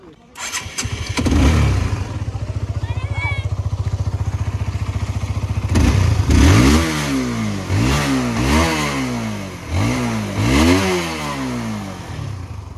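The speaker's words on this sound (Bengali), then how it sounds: "সো আমি আপনাদের একটু এক্সস্ট নোট শোনাই।" A 2013 Honda CBR sport motorcycle with its older-style exhaust starts, settles into a steady idle, then revs repeatedly in rising and falling bursts, loud and close, with a person speaking briefly over it.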